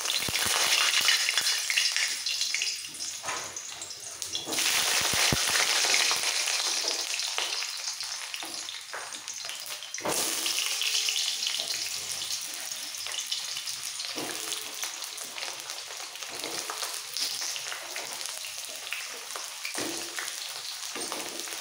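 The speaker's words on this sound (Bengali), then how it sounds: "সবার প্রথমে আলু আর পটল একসাথে ভেজে নেব।" Potatoes and pointed gourd fry in hot mustard oil in a kadai, giving a loud, close, continuous sizzle that fades and surges as the pieces are stirred, with a few scraping clinks along the way.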